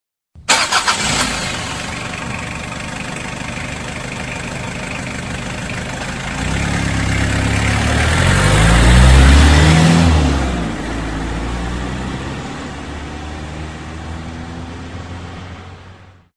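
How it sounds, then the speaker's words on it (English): A motorhome engine cranks and catches, settles into a steady idle, then swells to a louder revving peak as it pulls away before easing back to a running hum, all without voices. "Motorhome."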